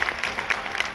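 A short burst of audience applause at a Gujarat talent award ceremony: dense, steady clapping from a crowd lasting about a second, with no voices.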